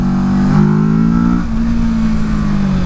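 A 2018 Kawasaki Versys 650 motorcycle engine revs up with a rising tone, then drops and settles into a smooth, steady drone, loud and close.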